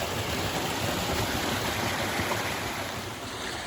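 A small waterfall cascades into a stream along the Gunpowder River railroad trail, a steady, loud rush of falling water that fills the air without a break.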